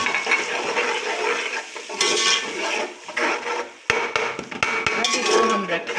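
Ground tomato and green chili puree is poured into a cooking pot for chana rice, a wet, sloshing pour nearby, followed by several sharp clanks and scrapes of a utensil against the pot.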